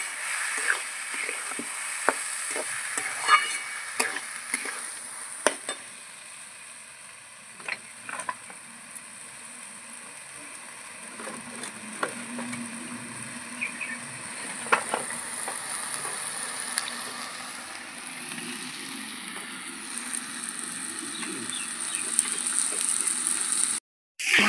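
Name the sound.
winter vegetables sautéing in oil for veg khichuri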